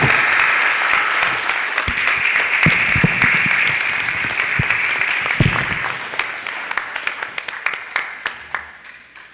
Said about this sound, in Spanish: Un muy fuerte aplauso para el doctor, por favor.